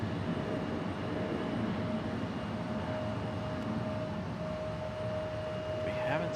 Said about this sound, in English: Delta 737-9 getting a move on.